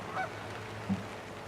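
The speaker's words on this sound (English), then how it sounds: "Here's some Canada geese here on" A couple of faint Canada goose honks in the distance across an anchorage in Clam Bay, one short call then another, over a steady wash of rain.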